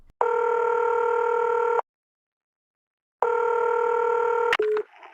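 A telephone ringback tone sounds in two long buzzing rings with a silent gap between them, followed by a brief click and tone as a 911 emergency call connects.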